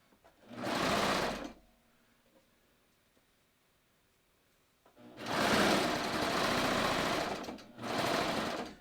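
A serger overlocks the lining along a garment neckline in two loud, steady bursts of whirring stitching, one short and one longer, separated by a quiet pause.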